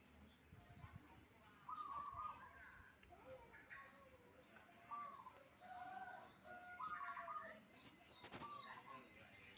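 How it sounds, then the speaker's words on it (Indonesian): Local wild birds call back and forth under a tree outdoors, with short chirps and warbling notes repeating faintly at a distance, over low background noise and occasional quiet speech. "Saut-sautan burungnya."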